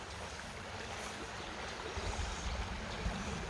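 A creek at a nature center flows as a soft, continuous wash of water, distant and faint, with a slight swell toward the end and no voices.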